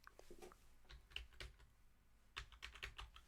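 A password goes in on a computer keyboard as a short run of quiet, close keystrokes in two small bursts with a pause between.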